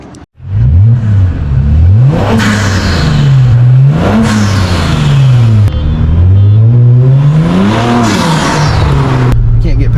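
A powerful Infiniti Q50 Red Sport twin-turbo V6 engine revs and accelerates hard, its pitch climbing and falling through several loud surges, close and continuous.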